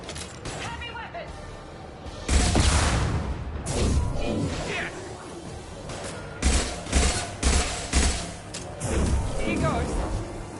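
A heavy weapon fires in the Mass Effect 2 video game amid a battle, with repeated loud blasts, crashes and whooshing impacts in bursts over about ten seconds.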